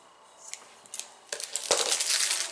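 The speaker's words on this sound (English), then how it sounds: "So I start with 15 inches of the ribbon. And I'm going to cut it." Scissors cut through a length of vinyl ribbon, a few crisp close snips followed by a rising crinkly rustle of the material being handled.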